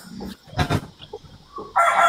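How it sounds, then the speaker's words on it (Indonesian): A rooster clucks a few times, then launches into a loud, close crow that runs to the end, with a few faint background noises in between. "ada bunyi ayam"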